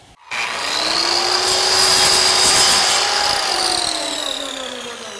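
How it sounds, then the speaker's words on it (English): A power saw cuts a plywood channel strip for a homemade boat, a loud close whining cut that starts abruptly and holds steady for several seconds before easing slightly. "we're going to come back and cut this channel strip back 3/4"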